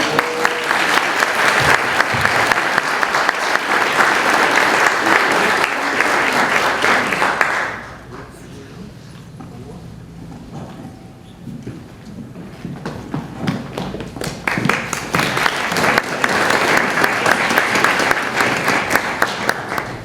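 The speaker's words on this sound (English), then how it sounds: "we can hold our applause until the end" Applause from the audience at a community gala awards ceremony, a dense sustained clapping that dips briefly midway and then swells again, loud and close, with no voices over it.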